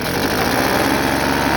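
A 2011 Husqvarna 125b leaf blower's small two-stroke engine on full choke, revving loud and steady with a rapid buzzing pulse, close by and alone.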